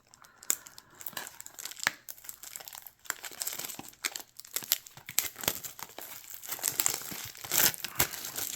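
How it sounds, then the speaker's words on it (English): Plastic wrap being peeled and crumpled off a Yu-Gi-Oh 25th Anniversary Rarity Collection II card box, close and loud, with continuous crinkling and sharp tearing bursts over several seconds. "I should be able to get the plastic off."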